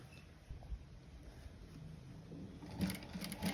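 A sewing machine stitches a frock with a low, steady whir that stays faint throughout and picks up slightly louder, sharper ticks near the end; no one speaks.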